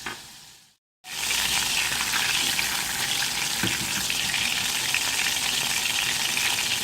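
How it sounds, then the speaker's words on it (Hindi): Butter sizzles in a saucepan as the base for a white sauce, a loud steady close hiss that begins after a brief silence and continues unbroken. "वाइट सॉस बनाने के लिए सॉस पैन में हम सबसे पहले डालेंगे बटर।"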